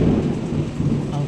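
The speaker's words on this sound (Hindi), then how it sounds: "बहुत तेज़ बिजली कड़क रही है।" Heavy night rain with thunder, a dense, steady roar of pouring rain carrying low, continuous rumbling, loud and close throughout the short stretch.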